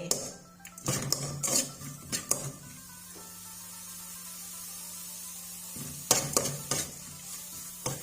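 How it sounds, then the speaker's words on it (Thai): Curry paste sizzles and is stirred in a pan, a spoon scraping and clattering against the metal in bursts between steady frying hiss, close and moderately loud. "พริกแกง เอามาขัวให้พริกแกงหอมจักนิดนึงก่อนนะคะ"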